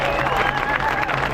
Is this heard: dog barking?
no